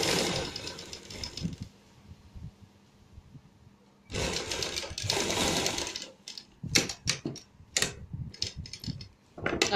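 A sewing machine stitches a coat collar in a tailoring workshop, running in loud bursts with pauses between, ending in a series of short, choppy stitching spurts and clicks, with no talk.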